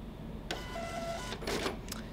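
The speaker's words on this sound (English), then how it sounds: "it is printing a receipt and all of my tickets" A receipt printer at a ticket-selling counter runs off a receipt and event tickets, giving short buzzing bursts of printing with a quick tearing or cutting sound partway through, close by and alone.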